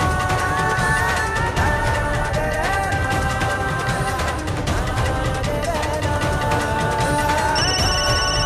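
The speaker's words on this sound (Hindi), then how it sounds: "चमेली का फोन" A telephone rings in an Indian Hindi television drama, with a loud, steady ringtone that runs continuously for several seconds over dense tonal music, with no talking.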